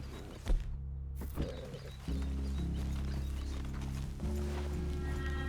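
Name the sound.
horses' hooves in video game Red Dead Redemption 2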